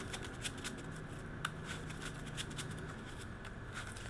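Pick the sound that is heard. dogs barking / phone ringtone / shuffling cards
shuffling cards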